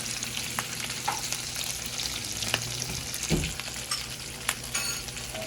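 Dinuguan and humba being stirred together in a frying pan to make sisig, a steady sizzle of frying with scattered scraping and clinking from the spoon, heard close with no talk.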